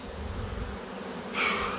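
A hive of honeybees shaken out by a beekeeper, a dense continuous buzz close by that swells louder and brighter toward the end, with no voices.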